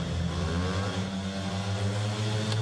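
Speedway motorcycles at the start of a heat at a Grand Prix in Prague: steady, loud, buzzing engine drone from several bikes held at high revs, with no talk over it.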